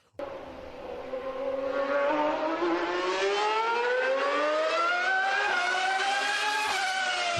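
A Ferrari engine revs loud and alone, its smooth harmonic whine climbing steadily in pitch over several seconds and holding near the top.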